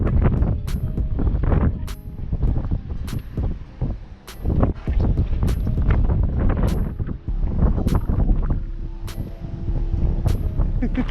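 Strong wind blows steadily across the microphone outdoors on a fishing trip, a loud continuous buffeting roar with gusty swells and faint ticking in the background.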